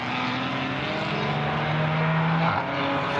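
A Ford Mustang GT4 race car accelerates hard out of the final corner at The Bend circuit, its engine a loud, steady roar with a rising tone that holds for the full few seconds, close and without speech.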